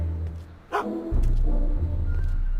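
A dog barks and yips close by, with short sharp calls over a steady background hum and shuffling, heard in a scene at a scientist's home.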